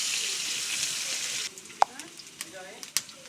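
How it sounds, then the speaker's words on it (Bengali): Green chili and chopped garlic, along with chopped onion, hit hot oil in a pan with a loud, close sizzle that drops sharply after a moment into a quieter hiss with a few sharp utensil clinks. "কাঁচামরিচ দিলাম, একটু রসুন কুচি দিলাম, দিয়ে একটু লাল লাল করে ভাজে দেবো।"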